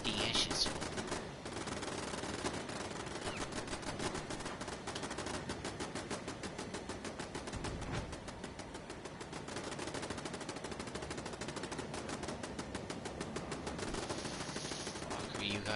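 Sustained rapid gunfire in the video game Fallout 76, a dense mechanical rattle of shots repeating steadily for many seconds at moderate loudness, with brief changes in intensity.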